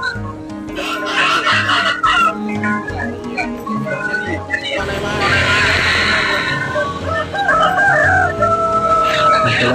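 Roosters crow repeatedly over a busy market-like din, with someone talking nearly throughout and other chickens clucking close by, at an Indonesian chicken market.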